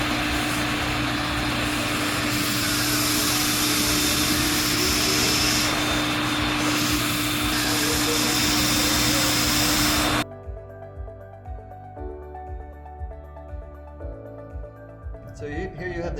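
A DB24 24-gallon wet and dry vacuum set up for wet pickup runs with a loud, steady broadband roar and high whine, then cuts off abruptly partway through, leaving a quieter stretch of faint sounds.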